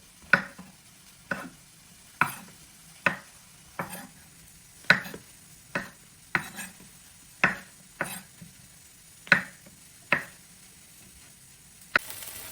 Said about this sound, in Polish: Teraz pieczarki kroję na 4.